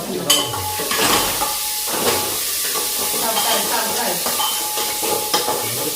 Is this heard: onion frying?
yes